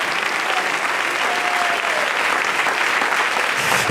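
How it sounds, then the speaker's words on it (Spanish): A church congregation applauds steadily at an evening service, a dense, sustained wash of many hands clapping at close range with no break, plus a faint tonal whistle briefly audible beneath it. "Denle ese aplauso al Rey en esta hermosa noche."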